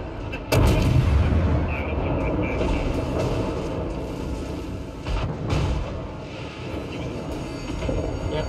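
Heavy naval guns of a Nelson-class battleship in World of Warships fire with a loud deep boom near half a second, followed by a long rumbling roar and a second, weaker blast around five seconds.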